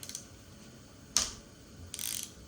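A ratchet with a 10mm socket works on the timing chain tensioner bolts of a Honda K20A engine, giving a few faint, close clicks and a short buzzing ratchet run with no talking.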